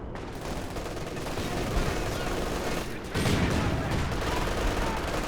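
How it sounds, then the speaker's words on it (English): Twin MG34 machine guns fire at Soviet infantry in a Company of Heroes 2 battle, a dense, continuous wash of rapid gunfire and battle noise. It grows louder partway through, with no clear gaps. "Double MG34 is fighting nicely though against this Soviet infantry."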